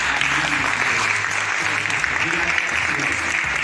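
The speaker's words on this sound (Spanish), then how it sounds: "quiero pedir un aplauso para toda la gente de la sala" Hall audience applauding at the closing of a film festival screening in a cultural centre, a steady dense wash of clapping throughout with a low voice murmuring underneath.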